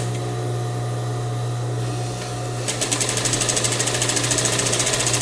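A sewing machine runs a rapid, steady burst of stitches along a ruffle of thin crepe bubble fabric with a one-presser-foot seam margin, starting after a stretch of quiet background hum and continuing loud and close to the end.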